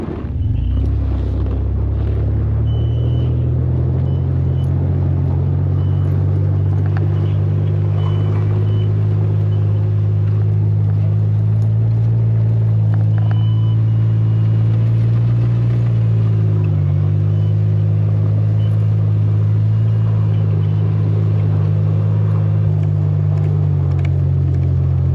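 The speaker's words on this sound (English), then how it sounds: "I'm gonna roll ahead slow then." A vehicle rolls slowly forward on snow with a loud, steady low engine rumble throughout, close by, the pitch shifting slightly as it creeps ahead.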